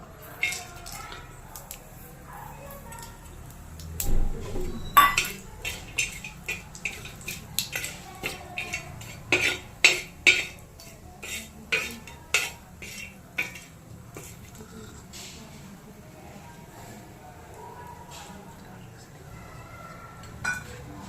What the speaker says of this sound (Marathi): दोन काळं मिरं एक लवंग दालचिनी दगडफूल आणि शहाजीर त्याचबरोबर केचपा हे आपण भाजून घ्यायचं आहे